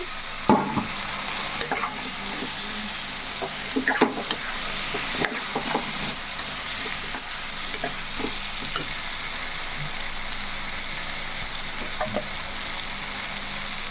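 Drumstick pieces frying with masala paste in a pan, a steady close sizzle running throughout with scattered stirring scrapes and clicks and no talking.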